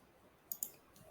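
Two quick computer mouse clicks, close and sharp, about a tenth of a second apart, while database tables are linked by clicking Edit Relationship, over a faint hum with no talk.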